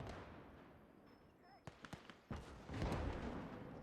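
An explosion as a half-track is hit in Liberation, a WWII video game: a few sharp pops, then a heavy blast that rolls into a sustained rumble, with background battle noise throughout.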